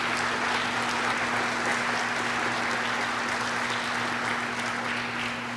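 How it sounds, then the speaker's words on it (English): Steady, sustained applause from a morning business and community campaign kick-off audience fills the room at an even level throughout, with no voices over it. "Let's give Carlo, Candace, and Mike one more round of applause."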